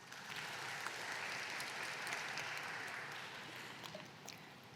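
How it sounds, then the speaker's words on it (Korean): Steady applause from a Korean university admissions strategy briefing audience, a dense wash of many hands clapping evenly for the full stretch, filling the hall without voices. "모두 큰 박수 부탁드립니다"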